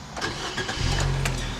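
A 1.6 liter 4-cylinder engine in a 2015 Nissan Versa Note SR cranks and catches, settling into a steady low rumble as it starts up, close and fairly loud.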